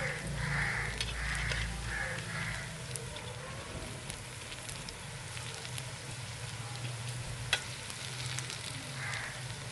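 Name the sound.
potato pakoras frying in oil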